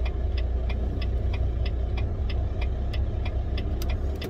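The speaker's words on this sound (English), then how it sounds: "The truck's actually been running" A long-haul truck's diesel engine idles at minus 20 degrees Celsius, a steady low rumble with a regular ticking clatter running through it, close and continuous, with no one speaking.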